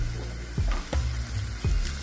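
Onions, curry leaves and mint sizzle in a hot pan, with a steady frying hiss and a few soft stirring scrapes at close range. No one talks.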